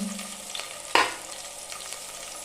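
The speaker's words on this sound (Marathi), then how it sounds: "टोपशीमध्ये तेल तापत ठेवले त्यामध्ये टाकते कढीपत्ता लसूण" Curry leaves and garlic dropped into hot oil in a pan, a sharp burst of sizzle followed by a softer steady fry, close and fairly quiet, no talking.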